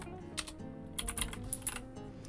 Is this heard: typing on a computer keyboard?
yes